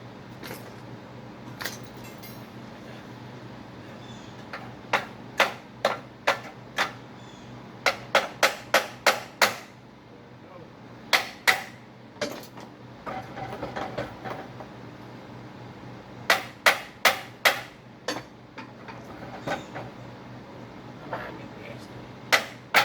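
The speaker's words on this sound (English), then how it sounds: "I'm going to take a hammer and just ham on it a little bit, see if we can break it free" Sharp metallic hammer strikes on a stuck drive shaft flange of a 2006 Toyota RAV4 4x4 V6 ring out in irregular bursts of two to five blows, separated by pauses, over a low steady hum.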